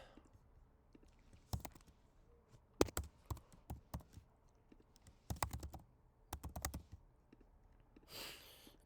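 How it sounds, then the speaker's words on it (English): Typing on a computer keyboard while entering a school address into an online form, with close, irregular bursts of key clicks and brief pauses between words. "So I'm just going to type in the school address."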